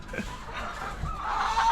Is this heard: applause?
no